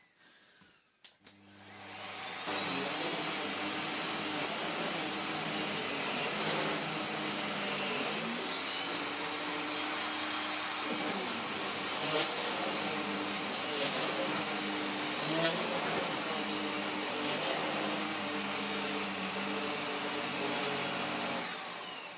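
Miele Revolution Powerplus S5980 vacuum cleaner running steadily on its hose, a loud continuous whooshing roar with a high whine that starts after a brief click and holds for about twenty seconds.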